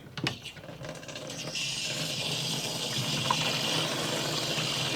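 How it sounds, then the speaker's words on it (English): Water from a low-pressure garden hose splashes onto the ground around a tree at a building site in Mexico, a steady soft rush that gets fuller partway through and then runs on evenly. "we're going to make sure this tree is nice and watered"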